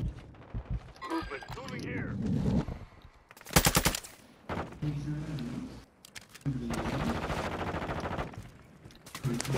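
Bursts of automatic gunfire and single shots in Call of Duty Warzone on Ashika Island, loud and close in several separate volleys, with players talking excitedly between them.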